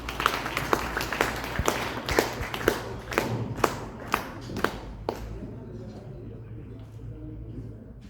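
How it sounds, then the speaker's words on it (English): Audience at a World Engineering Day celebration in a hall clapping for an engineer, a sparse round of distinct claps that thins out after about five seconds, leaving quiet room tone. "Let's give him a warm round of applause for Engineer Jonas."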